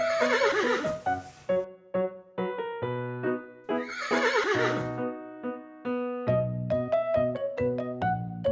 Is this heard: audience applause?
no